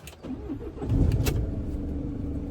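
A caravan's engine turns over and catches on the road out of Luang Prabang, the cranking giving way to a steady low idle that holds close and even.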